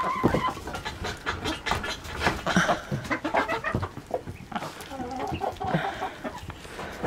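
Chickens cluck busily while pecking at a big bowl of beef, salad and pasta, with close, overlapping clucks and scratchy pecking noises throughout.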